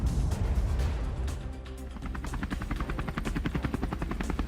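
A Ukrainian attack helicopter firing flares over a war zone: a low rotor drone that turns into a fast, rhythmic thudding of blade beats, with sharp rapid bursts layered on top. The sound is moderately distant and there is no speech.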